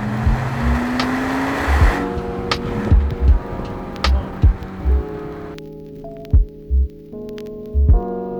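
A Porsche 987 Boxster S engine drones while driving, its pitch sweeping up and shifting, with repeated dull thumps and bumps punctuating the hum; no one speaks.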